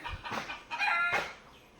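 A laying hen clucks close by in a few short, rising bursts, loud and clear with no talk over it.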